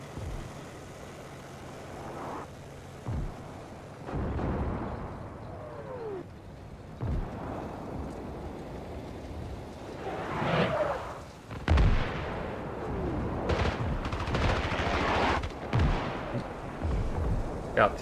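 Mortar rounds firing and landing in the tank-war game Armored Brigade II, with a string of booming thuds and blasts spread across a noisy battlefield mix while someone talks over it.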